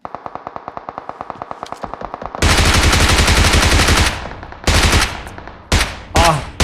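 Gunfire in the mobile shooter game PUBG Mobile: a rapid string of loud automatic rounds builds into a dense sustained burst, followed by several shorter heavy volleys.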